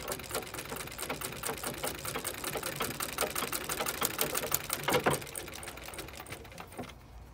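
A Singer 15 treadle sewing machine running at steady speed, a fast even rattle of needle strokes and mechanical clatter, close and continuous before slowing and stopping near the end.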